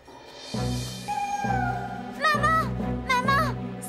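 A cartoon cat gives a few short, bright meows in quick succession over a low held musical tone, close and clear, in a children's animated firefighter series.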